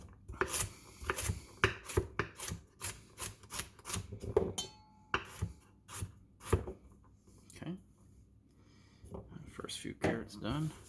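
Carrots being chopped for chicken pot pie, a knife striking a cutting board in a steady run of close, crisp thuds with short pauses; someone talks quietly now and then.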